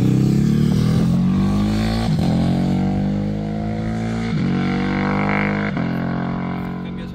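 A motorcycle on a road near Madrid accelerates in strong rising engine sweeps, with several gear changes marking the pitch climbs; the engine stays loud and close the whole time, with no voices.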